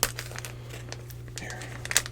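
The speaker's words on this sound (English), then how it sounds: "And I know some people love crinkles, and I know some people don't love crinkles." Crinkly plastic packaging being handled and torn open up close in a quiet room: soft scattered crackles with sharper rustling bursts at the start and end, over a low steady hum.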